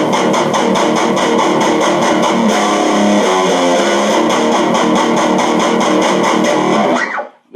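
Distorted electric guitar plays a palm-muted riff, a dense, steady, chugging rhythm that runs loud and alone for about seven seconds before cutting off abruptly.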